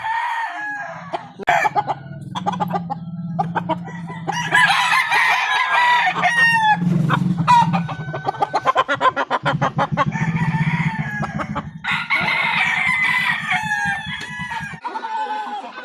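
A straight Golden Boy Sweater gamefowl stag crows loudly and close by, several drawn-out calls in succession, with other roosters in a backyard breeding yard crowing and clucking around it.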